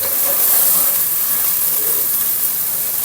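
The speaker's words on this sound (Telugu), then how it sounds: "మసాలా కూడా బాగా ఫ్రై అయిపోయింది." Mushroom masala fries in a pan with a steady, close hiss and sizzle that holds at an even level from start to finish, with no talking.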